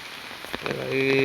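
Rain falls on a farm while a tractor is loaded in the rain, a short, steady hiss of drops close by, with a faint voice rising near the end.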